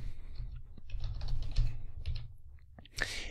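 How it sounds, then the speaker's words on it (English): Quick, uneven keystrokes clatter on a computer keyboard, close and fairly soft, in a short burst of typing with no talking. "Type in schema"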